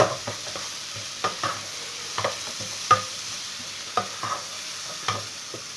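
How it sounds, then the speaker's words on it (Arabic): Peppers and onions fry in oil with a soft continuous sizzle punctuated by regular stirring taps and scrapes, close and fairly quiet, with no speech. "كما كتشوفوا الفلافل ديالنا والبصل تشحروا."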